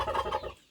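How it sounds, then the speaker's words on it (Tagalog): A large turkey on a farm kept with chickens gives one brief, close, warbling gobble that fades out quickly, with no talk over it. "Pabo na yan ni Angelo ang laki."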